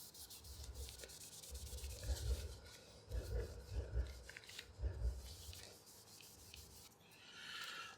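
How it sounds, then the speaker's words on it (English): A rag carrying lemon oil is rubbed over the body of a bass guitar, giving soft, close swishing and wiping strokes in uneven bursts, fairly quiet, with faint handling noises between them. "I've got that lemon oil, the residual lemon oil on the rag, I give the whole bass a bit of a once over"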